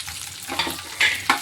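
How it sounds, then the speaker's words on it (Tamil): Peeled small shallots fry in hot oil for a garlic tamarind curry. A close, bright sizzle rises in three quick bursts as they are stirred through the pan. "சின்ன வெங்காயம் உரிச்சு வச்சுருக்கோம் அதையும் போடுவோம்"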